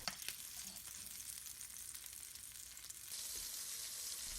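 Smoked sausages fry in oil in a pan, giving a soft, steady sizzle that grows slightly brighter and louder partway through, with no voices.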